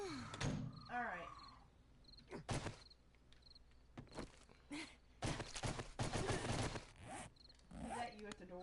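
Banging on a door in a video game, several loud thudding bursts that come close together amid scattered game sounds, with people talking at times around them.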